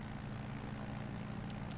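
Propeller engine drone of a tailwheel airplane lifting off in Microsoft Flight Simulator 2020, a steady, fairly faint hum held briefly with no speech.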